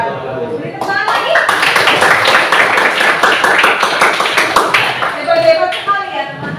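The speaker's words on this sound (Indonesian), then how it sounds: "Beri tepuk tangan lagi" Dense group clapping from participants at an Indonesian gathering, loud and steady for several seconds before tapering, with voices mixed in.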